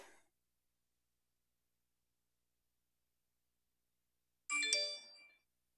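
A phone gives off a single short, bright chime of a notification tone in an otherwise silent room, clear and close, preceded by a brief faint tail of another sound.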